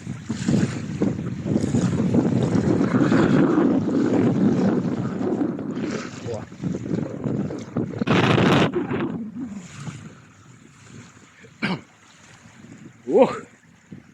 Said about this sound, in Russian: такой ветер холодный